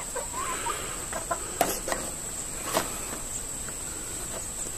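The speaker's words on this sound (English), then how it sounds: "And that's the chickens." Chickens cluck softly and sporadically at a moderate distance, with a few sharper squawks over a steady high insect drone.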